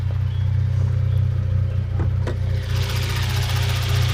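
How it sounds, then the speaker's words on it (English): A Hyundai Genesis Coupe 2.0 engine idles loudly with a steady low rumble, with light rapid timing chain ticking and a couple of sharp clicks on top. "The timing chain tick."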